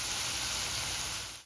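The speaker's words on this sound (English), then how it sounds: "I've got my onions sizzling in the background right now." Onions sizzle in hot olive oil in a pan, a close, steady hiss of frying that holds evenly before dropping off abruptly at the end.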